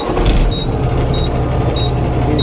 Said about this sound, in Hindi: स्टार्ट हो गया है अभी इग्निशन ऑन, फुल रेस कर रहे हैं अभी